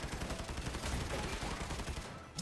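Rapid, continuous gunfire in the mobile shooter game The Fifth Ark crackles densely throughout, close and loud, with bursts blending into a sustained barrage.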